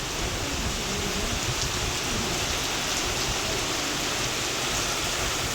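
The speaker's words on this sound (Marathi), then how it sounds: "खूप जोराचा पाऊस चालू आहे" Heavy rain pours steadily in Bhokar taluka of Nanded district during a windy storm, a dense, constant roar of drops close by with no pauses.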